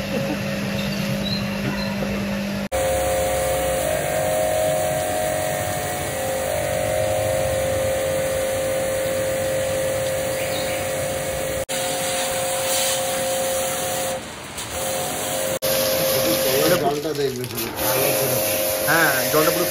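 A jet washer sprays water hard onto an air conditioner during servicing, giving a loud, continuous hissing rush with some machine hum, broken by abrupt cuts.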